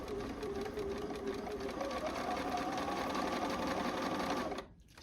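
A sewing machine stitches pieces of a Double Stars & Stripes quilt with a steady, close mechanical whir. It runs without pause for about four and a half seconds, then stops abruptly.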